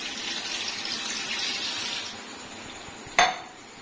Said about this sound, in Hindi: अब यहाँ पे मैं ये ग्रेवी बनाने के लिए इसमें 1 गिलास पानी डाल दूंगी